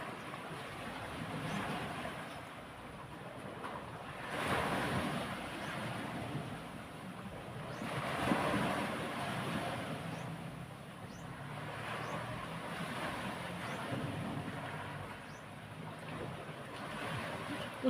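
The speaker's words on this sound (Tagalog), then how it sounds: "Kusog ang aon niya guys." Strong sea waves surge and wash around a boat at sea while wind buffets steadily, the swells rising and falling in slow, broad pulses at moderate loudness.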